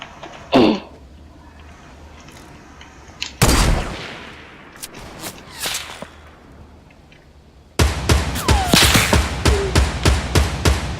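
Gunfire in a first-person shooter video game, with an assault rifle and a sniper rifle in use: a few separate loud shots early on, then a steady run of sharp, rapid bursts near the end.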